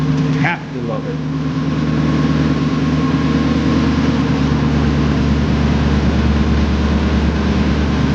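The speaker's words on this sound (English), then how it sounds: "Gotta love the 1UZ motor." The 1UZ V8 engine of a Lexus SC400 with an upgraded fuel pressure regulator idles close by with a loud, steady low hum and rumble, after a brief sharper sound near the start.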